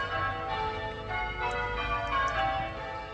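Blackburn Cathedral's bells ring out on a Sunday, layered ringing tones overlapping continuously, heard from a moderate distance outdoors.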